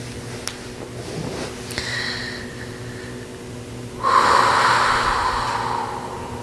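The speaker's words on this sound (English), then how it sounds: "So maybe taking a deep belly breath." One person takes a deep belly breath, a faint drawn inhale followed by a louder, airy exhale that rushes out for about two seconds, near and alone.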